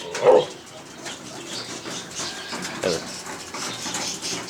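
An Arabian tumbler pigeon takes off from a hand on its third day of training, giving a short burst of wing flaps near the start and another faint flutter later, over steady outdoor background noise.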